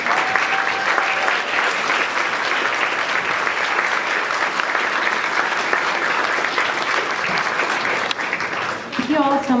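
Loud, dense audience applause for student performers at an evening theater event, continuous clapping from a full crowd with a few faint shouts near the end.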